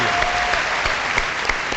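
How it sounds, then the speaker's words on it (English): A studio audience at a talk show gives a round of applause, a dense steady patter of clapping, close and continuous. "let's give him a round of applause for that"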